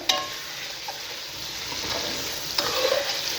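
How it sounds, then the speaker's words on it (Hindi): Chicken with ginger garlic paste fries in a pot for a kachnar gosht, giving a steady close sizzle and crackle with a couple of sharp utensil clinks and stirring scrapes, no voices. "इसको भी हम 2 मिनट इसके अंदर कर लेंगे फ्राई"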